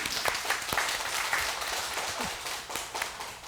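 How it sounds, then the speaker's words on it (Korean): A church congregation at a Sunday service claps in welcome, giving a steady patter of many hands that carries on throughout at moderate volume. "환영하는 박수 같이 한번 할까요?"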